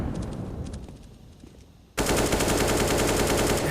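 Rapid automatic gunfire from pistols and SMGs in a Counter-Strike match on Nuke, a quieter patch first and then a sudden loud, sustained burst of dense shots that carries on to the end.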